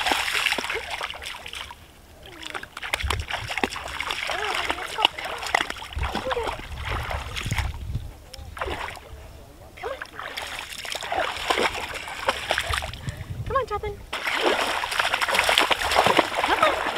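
Water splashes and sloshes at a forest cabin as people swim or wade, with continuous close splattering that rises and falls in bursts, while voices, including a child's, talk over it.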